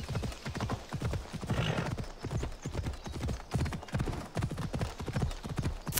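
Horse hooves clip-clop in a steady galloping rhythm while riding across open ground in Assassin's Creed Odyssey, close and continuous with a brief whinny partway through.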